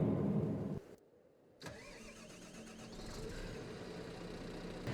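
A big Massey Ferguson tractor engine in Farming Simulator 22 cranks and catches after a short silence, then settles into a steady mid-pitched idle that holds close and fairly loud.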